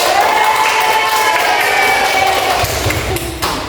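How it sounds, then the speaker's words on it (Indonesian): A third-grade classroom claps for a short burst, a dense mix of hand claps and children's voices with a bright tonal ring over the crowd noise, fading slightly toward the end. "Kita kasih tepuk tangan."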